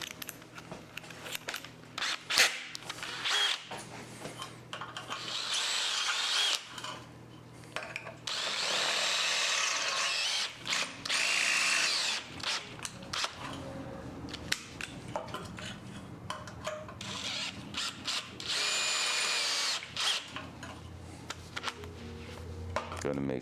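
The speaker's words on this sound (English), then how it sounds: "I'm gonna re-drill the mounting hole there so it can fit a M6 bolt." A power drill re-drilling a mounting hole to fit an M6 bolt, during car fuel-line and transmission work, whirring in several loud bursts of a few seconds each, separated by pauses, metallic clinks and someone talking.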